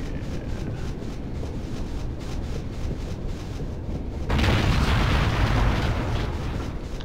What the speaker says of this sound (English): you're alerted by your own explosion